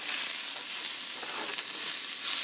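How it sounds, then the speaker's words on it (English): Onion sautéing in a pan with little or no fat, giving a steady broadband sizzle and frying hiss that runs continuously and fairly close for the whole stretch. "just kind of sauteing the onion"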